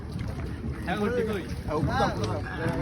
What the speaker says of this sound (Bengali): দীর্ঘ অনেক বছর পর নৌকা দিয়ে বরযাত্রী অসাধারণ জাহাঙ্গীর এসেছেন সবাই এসেছেন এই যে নৌকা বাসানো হয়েছে